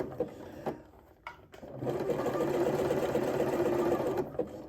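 A sewing machine stitches fabric on an extension table, a few short starts and taps giving way to a sustained rapid whirring run that stops near the end.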